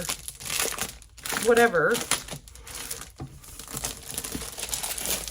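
Plastic packaging on an Anna Griffin craft product crinkles and tears as it is unwrapped up close, in bursts of rustling, with a person talking briefly over it.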